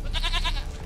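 A goat in The Witcher 3 video game gives a short wavering bleat, clear and fairly close, over a steady game background.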